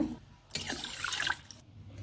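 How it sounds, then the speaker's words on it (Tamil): Water is poured over washed rice in a container to soak it for Karthigai Deepam appam, a short gushing splash rising after a quiet pause, lasting about a second before tapering off. "இது முழுகிற அளவு தண்ணி ஊற்றிடலாங்க"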